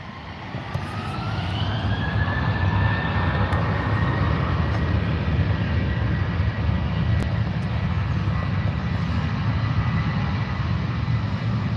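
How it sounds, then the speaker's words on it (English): A Jet2 jet airliner roars down the runway on its takeoff roll at Manchester Airport, a steady broad engine rumble with a rising whine, heard from a distance and sustained throughout. "Jet 2 on the roll."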